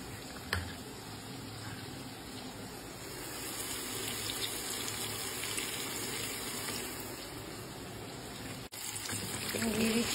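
Water pours steadily into a pan of fish curry with a potato, a continuous close gushing that holds for several seconds, breaks off briefly and then resumes.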